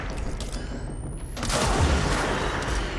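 Gunfire from the third-person shooter game Control, a dense burst of loud shots and booms that swells about halfway through and stays heavy, with no one speaking.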